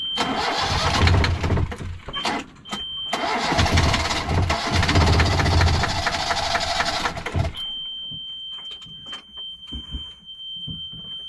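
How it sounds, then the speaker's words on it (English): Inboard engine of a 28 ft sailboat cranking and turning over at anchor in the Mediterranean, a loud sustained churning run of about seven seconds with a short break, then cutting out to quieter background with a steady high tone. "I was just cranking the engine to pump it to the secondary"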